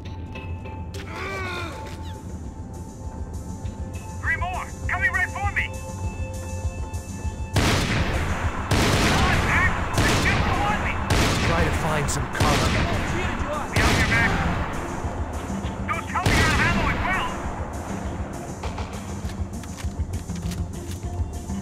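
Gunfire rings out in the 2012 video game Max Payne 3, with repeated loud shot bursts and sharp cracks during a firefight, while in-game characters talk over the action.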